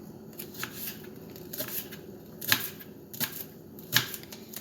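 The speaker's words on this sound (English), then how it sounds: "And now cut it into thin strips." A knife cutting green onion into thin strips on a board, giving soft, faint, irregular taps and crisp slicing clicks spread across a few seconds.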